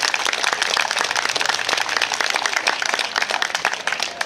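Dense audience applause at the opening ceremony of a summer night dog show in Split, Croatia: steady, crowded clapping from many hands, loud and sustained throughout with no gaps.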